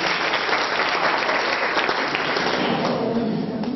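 An audience at an introductory Android lecture claps together, producing a dense, steady wash of applause that fills the room and tapers slightly toward the end.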